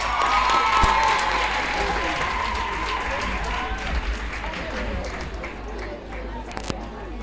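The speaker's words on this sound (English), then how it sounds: "Can we give them a big round of applause?" Full, sustained applause from a large audience at a school launch ceremony, dense and even throughout, with some cheering and crowd murmur underneath.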